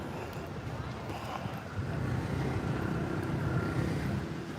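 Steady wind rumbling and buffeting against the microphone on a walk in the Philippines, a constant low roar that grows slightly stronger midway.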